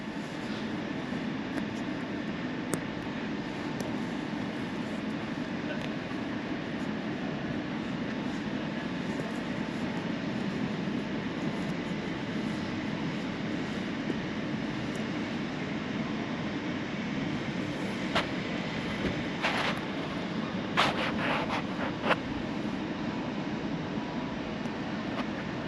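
A Southeastern train arrives from Margate and London, a steady rumbling rail roar filling the whole stretch at an even level, with a few brief clanks and squeals toward the end and no talk.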